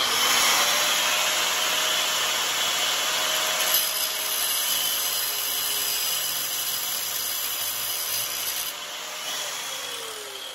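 Hand saw cutting through a fiberglass hood scoop for a 1965 Dodge Dart held in a vise, a continuous rasping stroke noise running steadily without pause.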